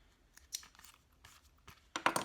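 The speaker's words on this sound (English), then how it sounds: "All right, so trim threads." Scissors trim loose threads from a freshly sewn zipper coin pouch: a few quiet, quick snips and small rustles, ending in a sharper cluster of crisp cuts close by.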